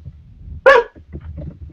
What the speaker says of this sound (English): Russ's dog is barking.